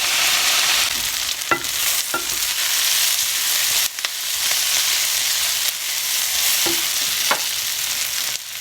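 Onions caramelize in a hot pan for Greek fava of yellow split peas, a steady bright sizzle broken by a few sharp scrapes and taps of a stirring utensil, close and continuous.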